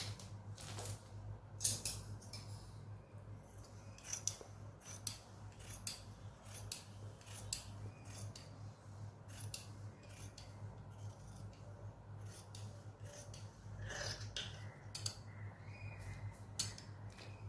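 Scissors snipping through churidar fabric to cut out an armhole, giving a steady run of quick, close crisp snips over a constant low hum, with no talking.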